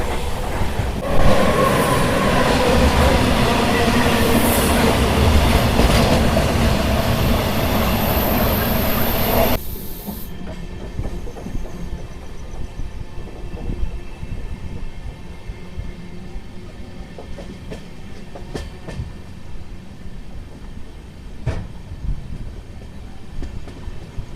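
The Machilipatnam to Bidar superfast express runs along the track, a loud rushing rumble with rhythmic wheel clatter that drops abruptly to a quieter, steadier rolling sound partway through.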